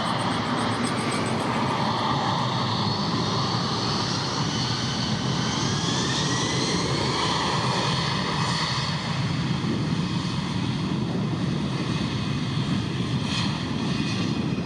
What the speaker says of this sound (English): Witness the sheer force as they spool up to takeoff power, sending a wave of thrust that propels this magnificent machine down the runway with impressive acceleration.